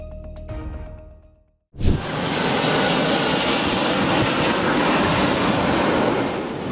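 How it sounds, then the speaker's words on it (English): A Libyan cargo aircraft comes in to land with a smoky touchdown: a quiet stretch, then a sudden loud, sustained roar of engines and rushing noise that stays steady to the end. "You are watching a smoky landing of a Libyan air cargo."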